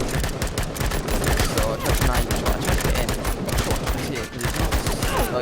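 Dense gunfire in the Call to Arms video game, with rapid overlapping shots and sniper cracks forming a loud continuous barrage for the whole stretch.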